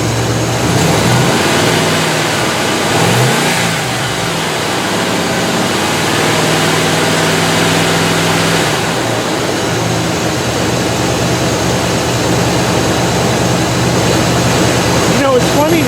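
A Buick's engine runs at a steady, even idle, with a low constant drone and a faint rattle, close by and unbroken.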